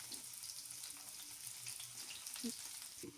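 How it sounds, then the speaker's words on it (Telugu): Onions frying in heating oil in a kadai, a steady soft sizzle running throughout, fairly quiet, with faint clinks of a spoon near the end. "ముందుగా ఆయిల్ వేడెక్కుతుండగా కొంచెం ఉల్లిపాయలు వేసుకొని వేడి చేస్తాను"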